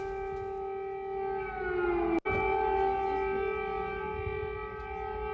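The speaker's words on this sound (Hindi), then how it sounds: "कीव, सुमी, चेरकासी और पोल्टावा में बजे एयर सायरन" An air raid siren wails across a city in Ukraine, a loud sustained tone that dips and rises again with a brief break midway, heard alone without voices.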